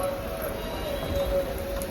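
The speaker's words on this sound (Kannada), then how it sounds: "ಮಳೆ ಬರ್ತಿದೆ ನೋಡಿ" Rain falls steadily outdoors as a dense, even hiss, moderately loud and close, with no clear talk.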